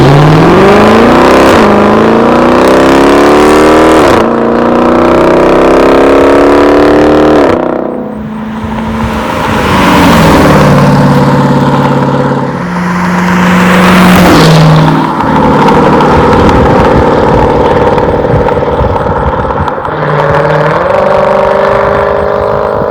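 A Dodge Challenger R/T with the 5.7 engine and a Borla ATAK cat-back exhaust revs loudly up close, with several rising and falling throttle blips followed by a long, sustained roar and deep idle between revs.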